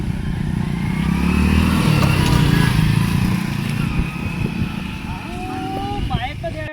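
A motorbike engine drones steadily on a road, loud and continuous, with a faint rise and fall as it moves past.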